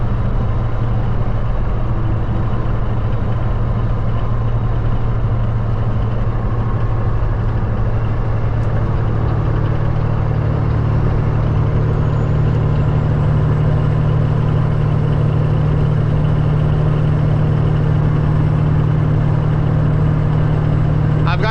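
A straight-piped Peterbilt truck with a 315-inch wheelbase cruises along, heard from the cab as a loud, constant low exhaust drone with a steady hum that barely changes.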